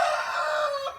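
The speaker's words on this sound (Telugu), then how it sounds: "ఈ సెక్షన్లో చాలా మంచి పుంజులు అయితే ఉన్నాయి" A single rooster crows on a poultry farm, one drawn-out, fairly faint cock-a-doodle-doo that fades at the end, with no talking.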